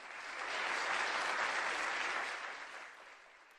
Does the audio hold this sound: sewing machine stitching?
no